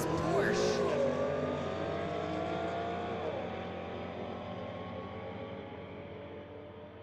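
Street-legal drag race between an Infiniti and a Porsche at a strip, cars roaring loudly off the line and fading as they pull away down the track, with engine drone and tire noise.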